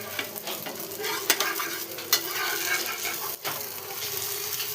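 Egg omelette sizzles and frying noises crackle steadily in a pan, with a few sharp clacks and scrapes as it is stirred and flipped, fairly quiet and close.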